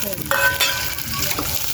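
Onions sizzling and being stirred in a pan while preparing a home-cooked Filipino lunch, a steady close frying hiss broken by a few scraping stir sounds.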